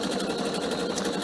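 A Pfaff sewing machine stitching a cushion cover runs in a steady, continuous whir with a fast, even mechanical rhythm, close and loud throughout, with no voices.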